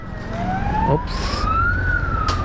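A siren from a long funeral convoy passing on the road rises in a slow sweeping wail over loud traffic rumble, with short whooping bursts cutting in near the middle and end.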